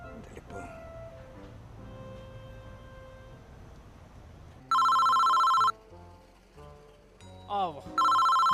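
A telephone rings in loud electronic bursts, two long trilling rings separated by a quiet gap with clattering and rustling in between.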